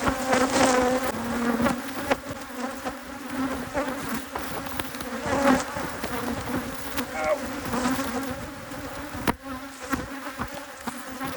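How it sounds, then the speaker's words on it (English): A swarm of Africanized honeybees buzzes around a hive, a dense, close, continuous droning hum with wavering pitch as individual bees pass near. "what I call Africanized bees."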